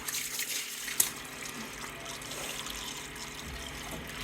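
Cold water splashing and trickling as a baby is bathed, a soft continuous flow with one sharp splash near the start, close and moderately quiet with no voices.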